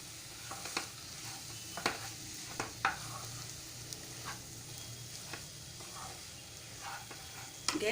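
Potato and fenugreek curry stirred in a pan after coriander powder goes in, a soft steady sizzle of frying with repeated light scrapes and clinks of a spoon against the pan, close and continuous, no talking.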